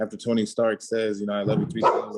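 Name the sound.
dog barking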